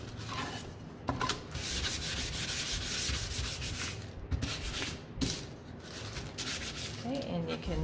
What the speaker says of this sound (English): When I'm sanding, I'm just pulling a little on the edges so it wears it away.